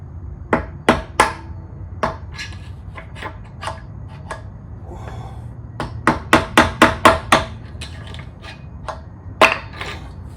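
Hammer blows drive motorcycle wheel bearings out of a Honda NC700X wheel with sharp metallic strikes up close, some in quick bursts of several and others spaced apart, each loud and ringing over faint background noise.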